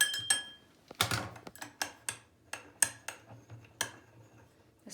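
A spoon stirring cornstarch in water in a container, producing a series of sharp clinks and taps at irregular intervals, close and distinct with quiet gaps between strikes.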